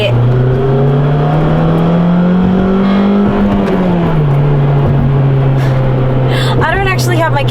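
A Honda Integra DC5 engine revs up with a rising, loud droning tone that climbs, holds, then drops back to idle, heard close up with a brief spoken remark over it.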